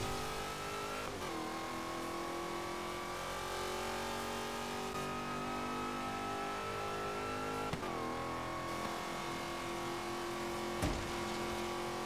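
Video game drag car launching on a countdown and accelerating hard, a loud continuous engine roar with rising revs and sharp gear-shift breaks, no talking over it.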